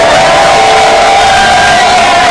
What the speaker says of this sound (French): Acclame Jésus, Christ de Nazareth, en poussant des cris de joie